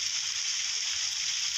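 Steady rain pouring outdoors at a riverside picnic with wood-fired cooking in a wok, a dense even hiss of falling water without breaks.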